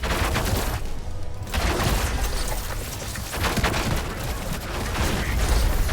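Gunfire and explosions from combat on a resource base in the strategy video game Battle Aces, dense and continuous with overlapping bursts and booms at a steady loud level for the whole stretch, with a brief dip in intensity early on.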